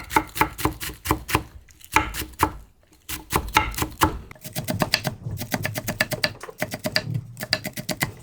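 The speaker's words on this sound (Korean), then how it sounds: "2분의 1 해서 또 2분의 1 하고 4등분을 해서 총총총총 썰으면 다진 효과가 나요" Knife rapidly chopping seeded Asahi and Cheongyang chili peppers finely on a cutting board for dumpling filling, quick rhythmic taps in bursts with short pauses, close and crisp.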